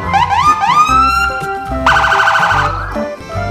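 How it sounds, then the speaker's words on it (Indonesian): A toy police car sounds its electronic siren, loud and close, with rapid rising wails followed by a sustained warbling tone that cuts off sharply, alone without any voices. "Mobil polisi."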